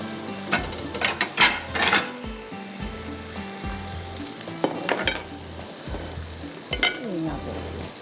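Diced potatoes tossed and stirred in a frying pan with a soya aloo dish, a loud close sizzle with scraping spoon strokes and clinks of metal against the pan.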